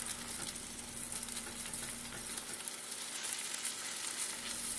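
Food sizzles and fries in a pan, a steady close hiss with a faint low hum beneath it and no talking.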